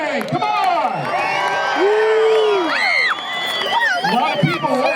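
Crowd cheering and whooping at a Wall of Crackers firecracker event, loud and close, with excited shouts and whistles sweeping over steady background crowd noise.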